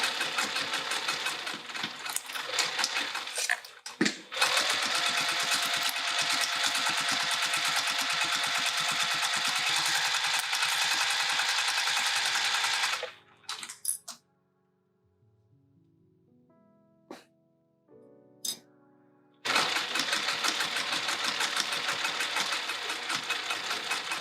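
A sewing machine stitches a fabric pouch in long steady runs, stopping midway for a quiet pause with a few small clicks and taps while the pouch is readjusted, then starting up again.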